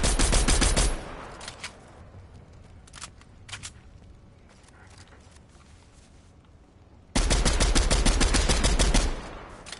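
Rapid automatic gunfire rattles in a shooting video game, with a short burst at the start, scattered single shots in between and a long sustained burst near the end, loud and close.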